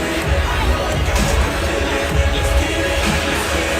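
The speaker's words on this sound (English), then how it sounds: "We've got a big crowd here." Big crowd at an ice hockey championship game at an indoor ice arena in Joliet, Illinois, a steady loud roar of cheering and shouting voices with scattered bangs throughout.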